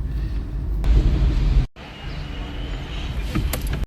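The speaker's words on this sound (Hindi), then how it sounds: "मस्जिद नबवी के करीब ये ट्रैफिक है।" Car traffic near Masjid Nabawi in Madina, a steady low engine rumble from nearby vehicles that cuts out briefly midway, with faint voices underneath.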